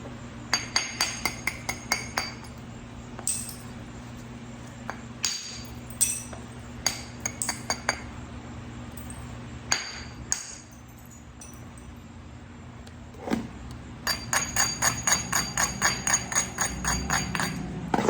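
Georgia jasper being flint knapped, struck repeatedly to bevel its edges, giving bright, ringing stone-on-tool clinks in quick irregular bursts, with quieter gaps and single taps between the rapid clusters.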